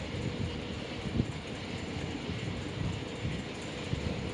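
MEMU passenger train running on rails between Chintamani and Bangalore, heard from inside as a continuous dense rumble with faint rhythmic clatter throughout.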